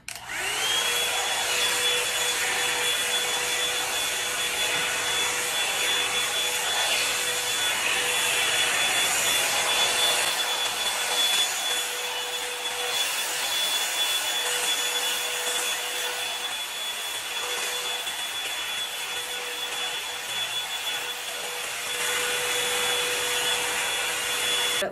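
A Revlon One Step hair dryer brush blows steadily while drying hair, a continuous loud whooshing motor hum with a fixed whine that holds level for the whole stretch, with no talking.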